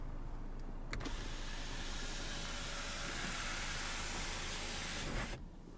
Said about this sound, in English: Garage home link, along with your one-touch auto power sunroof controls.